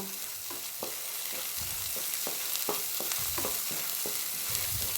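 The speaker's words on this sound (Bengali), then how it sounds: "আমার মশলা কষানো প্রায় হয়ে গেছে।" Masala with tomato and tomato paste frying in a pan, a steady close sizzle broken by repeated scraping strokes of a spatula, no voices.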